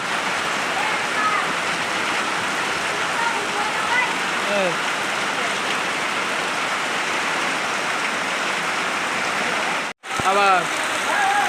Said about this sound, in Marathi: हा पाऊस हे बघा किती मोठा बरसतो पाऊस